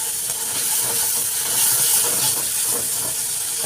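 Onions sauté in a pan for noodles, a steady, even, close hiss of frying with no breaks and no voice.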